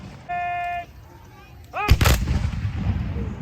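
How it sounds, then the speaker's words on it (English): A Civil War reenactment musket volley at Narcoossee Mill in Saint Cloud, Florida, fires as one loud, sharp outdoor blast with a short echo. A whistle-like tone and brief voices come before it. "that keeps continuous fire on the enemy"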